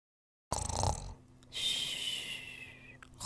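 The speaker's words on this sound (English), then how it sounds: "Who's snoring like that?" Snoring from a sleeping person, a few rough breathy snores, fairly close and moderately loud, with quiet pauses between breaths and no talking.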